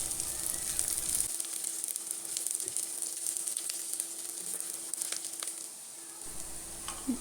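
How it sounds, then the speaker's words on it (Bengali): Ground drumstick leaves fry in a pan, a soft, steady close sizzle with faint crackles, fairly quiet throughout. "এগুলোকে ভালোভাবে ভেজে নিব কিছুটা লাল ব্রাউন কালার হয়ে আসলে"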